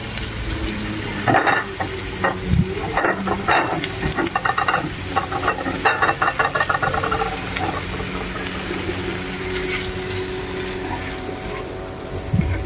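Mushrooms go into a pan of butter prawns, which sizzle and hiss while a utensil scrapes and stirs in quick bursts, the frying settling into a steady crackle afterward.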